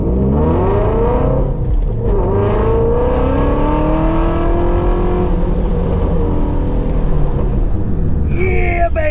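A car with an APB performance brake booster accelerating on a brake stop test run, its engine revving up through rising gear pulls, loud and close, with voices over it.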